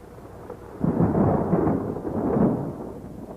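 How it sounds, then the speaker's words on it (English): Thunder rolls through a developing storm at sea, turning into a typhoon. A deep, sustained rumble swells up and lingers for a few seconds over a steady background hiss, with no voices. "Weather Bureau reports the storm is developing into a typhoon"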